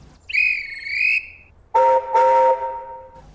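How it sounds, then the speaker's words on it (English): A guard's shrill train whistle sounds a long trilling blast, then after a brief pause a lower two-tone whistle gives two more close, loud blasts. "the guard blew his whistle"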